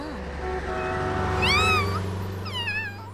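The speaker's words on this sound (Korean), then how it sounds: "길을 잃은 고양인가 이 봐." A cat meows twice, rising and falling cries about a second apart, over a steady low hum of background noise.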